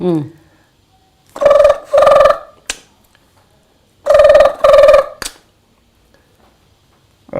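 A voice imitates a telephone ringing: two quick double rings, each pair buzzing loudly, separated by a silent pause.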